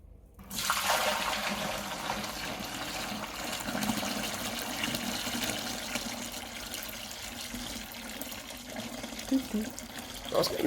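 Liquid poured slowly into a fermenter while making a homemade hard seltzer, a continuous soft splashing trickle running close for about ten seconds, fairly quiet, with faint sounds behind.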